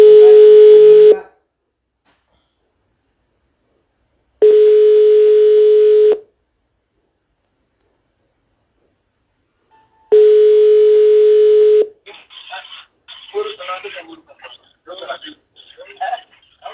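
A telephone ringing tone sounds in three loud, evenly spaced steady beeps with silent gaps while a call is placed; after the third tone, voices talk on the line.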